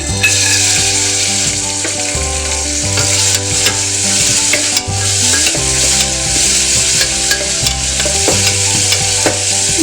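Coconut pieces fry in hot oil for a varutharacha chicken curry, with a loud, close, continuous sizzle and repeated scraping stirs against the pan.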